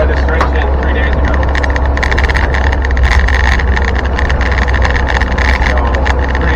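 A restored Land Rover called Granny Smith drives along with a steady, loud engine and road rumble throughout, with scattered sharp ticks and knocks from a rattle inside the vehicle.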